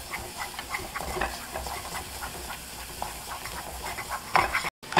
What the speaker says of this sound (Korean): 이렇게 페이스트를 1분 정도 볶은 후에